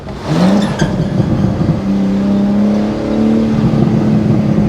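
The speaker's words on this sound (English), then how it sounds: "It really does sound insane." A 2025 BMW M4 Competition LCI engine revs up sharply, then holds a strong, steady growl that slowly rises, loud and close, with no talking.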